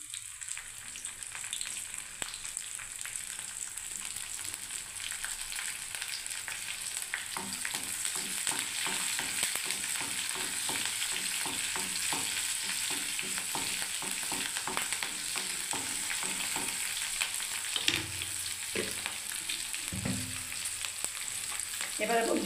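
Garlic and green chillies frying in hot oil with cumin seeds in a pan, a steady close sizzle with occasional stirring scrapes and crackles, no talking.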